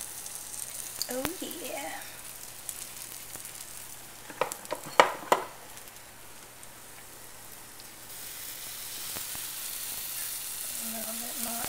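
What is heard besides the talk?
hoe cake batter sizzling on a griddle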